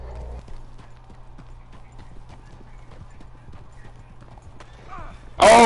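Horse hooves clip-clop steadily through a town street in Red Dead Redemption 2, a soft rhythmic patter under background chatter and ambient game sound, ending in a sudden loud burst.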